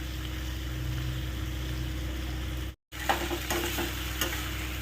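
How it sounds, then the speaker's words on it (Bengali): Raw pumpkin sautéing in a little oil makes a steady low sizzle with a soft hum beneath. After a brief break, a few scraping stirs come through near the end. "এটাকে আগে ভালো করে একটু তেলে কষিয়ে নিই।"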